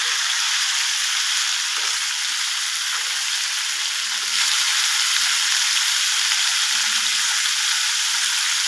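Papaya pieces cook in a pan for tilottama while being stirred, giving a steady close sizzling hiss with faint scrapes, continuous and alone.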